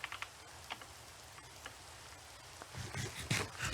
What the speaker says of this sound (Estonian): Vihma sajab, mulle ei meeldi vihm.